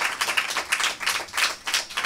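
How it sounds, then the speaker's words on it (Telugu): A church congregation claps together in a steady, rhythmic beat, dense and fairly loud, filling the room with no voices over it. "దేవునికి చప్పట్లు కొట్టండి."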